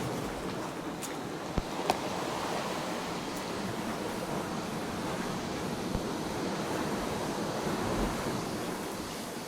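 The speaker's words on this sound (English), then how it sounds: "I'm going to come out into the breeze a little bit." Steady wind and surf on a tropical island shore, a continuous broad rush with a few faint knocks, no voices.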